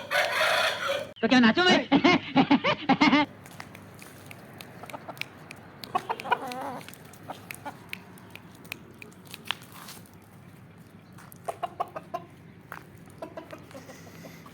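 Chickens and a rooster kept by a home poultry keeper cluck and squawk in bursts, loudest in a rapid run of calls near the start, then scattered clucks continue while someone speaks nearby.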